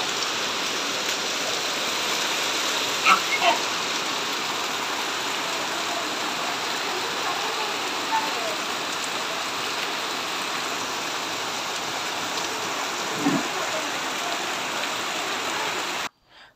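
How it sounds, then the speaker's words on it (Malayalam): Heavy rain pours down steadily and loudly, a dense, unbroken wash of drops hitting surfaces close by, with no voices and only a few faint knocks above it. "ഭയങ്കര തകർപ്പൻ മഴയാണ്."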